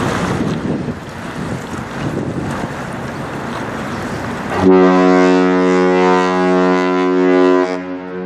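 Mesabi Miner, a 1004-foot Great Lakes freighter on the St. Clair River, sounds a long, loud, deep horn blast after several seconds of gusty wind noise, the tone sustained and droning to the end.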